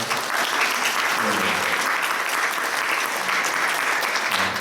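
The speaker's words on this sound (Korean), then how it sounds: "세 분 위해서 뜨거운 박수로" A church congregation gives warm applause during a Sunday service, a dense, even roar of clapping filling the room, loud and sustained from start to finish.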